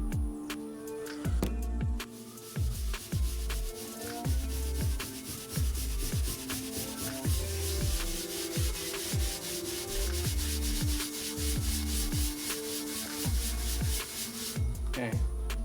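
A clipper blade being sharpened on a surface with a thin layer of oil and a little grit, giving continuous gritty rubbing and scraping strokes in an uneven back-and-forth rhythm, close and moderately loud.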